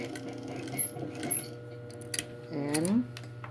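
A sewing machine top-stitches elastic on a fabric face mask in short bursts of fast mechanical whirring, close and moderately loud, with a voice speaking briefly between the runs.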